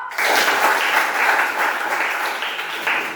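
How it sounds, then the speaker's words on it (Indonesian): Classroom applause breaks out and holds steady for a few seconds, a dense patter of many hands clapping at moderate volume after a group presentation. "Ya, tepuk tangan yuk."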